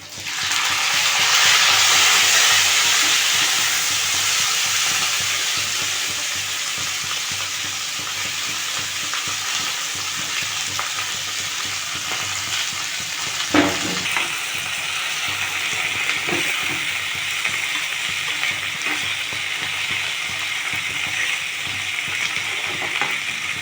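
Onion, tomato and green chili hit a hot pan and fry with a loud, dense sizzle that slowly settles, broken by a few scraping stirs partway through.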